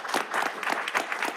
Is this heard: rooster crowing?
no